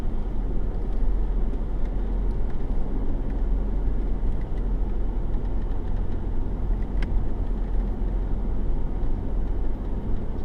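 Isuzu MU-X 4WD in low range with rear locker engaged, crawling slowly up a steep forest hill; a steady, close, low engine rumble with rough drivetrain and tyre noise runs continuously, no talking.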